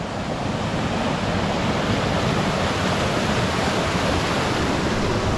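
Constant loud roar of rushing water at Toorongo Falls near Noojee, Victoria, a dense unbroken wash of noise from the nearby waterfall, with no voices.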